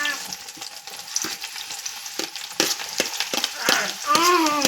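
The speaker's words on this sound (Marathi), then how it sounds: "तेल मस्त तापलंय ते कांदा टाकून घेते मी" Onions hit hot oil for a spicy Bombay duck (bombil) curry, sizzling up close with repeated scraping stirs and clattering strokes that grow busier and louder toward the end.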